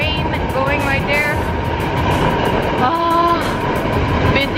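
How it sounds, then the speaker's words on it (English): A train passes through a station on a cold morning, giving a loud rumbling rush of wheels on rails with squealing tones and brief whistle-like pitches. "There's the train going right there."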